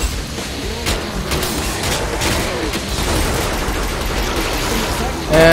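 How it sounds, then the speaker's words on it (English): Explosions and heavy gunfire rattle through a grenade-and-firearm battle in the video game Killing Floor, a dense, continuous roar of booms and shots at steady loudness that swells sharply at the very end. "And that grenade did absolutely nothing."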